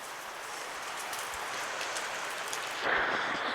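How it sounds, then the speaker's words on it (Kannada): Heavy monsoon rain pours steadily as a dense, even hiss that swells a little louder near the end, with no voices over it. "ಈಗ ನೋಡಿ ಒಳ್ಳೆ ಮಳೆ ಉಂಟು. ಮಳೆಗಾಲದ ಮಳೆ ಅಲ್ವಾ."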